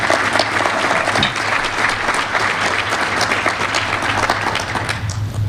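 An audience at a technical conference gives a steady round of applause, a dense even wash of clapping that holds for several seconds without letting up.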